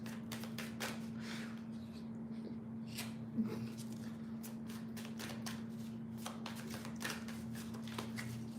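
Tarot cards being shuffled by hand, quick riffling bursts and soft slaps repeating through the stretch, fairly quiet and close over a low steady hum.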